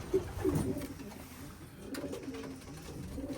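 Racing pigeon cooing inside a loft, a few low throaty coos rising and fading near the start and again later, set against a quiet roomy background, with a voice faintly heard at times.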